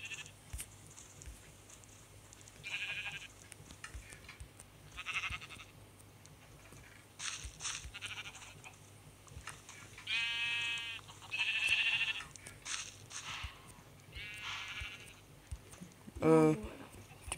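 Sheep in the video game Minecraft bleat several times, short wavering cries that come every few seconds at moderate loudness, along with a few soft clicks and low background noise.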